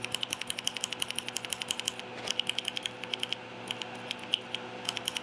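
Keys on a Keychron Q5 mechanical keyboard fitted with Akko Jelly Black switches clack in a quick, regular run of close, crisp strokes, then slow to sparser, uneven presses.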